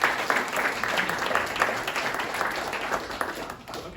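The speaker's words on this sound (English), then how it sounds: "let's give them a first round of applause" An audience at a demo day for a maker cohort claps for the presenting teams, a steady round of mid-distance applause that fades slightly toward the end.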